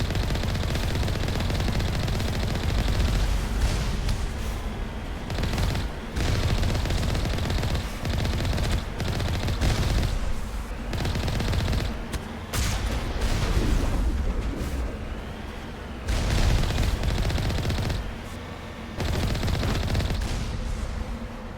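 An Alliance turret firing in the sci-fi shooter Mass Effect, rapid loud bursts of automatic fire in repeated volleys separated by short gaps, with impacts and booms mixed in.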